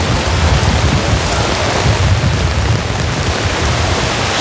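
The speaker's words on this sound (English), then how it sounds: "We've always had rain on Genesis Open Air, but this is ridiculous." Heavy rain driven by wind at an outdoor rock concert site, a loud, constant roaring wash with low rumbling gusts underneath and no talking.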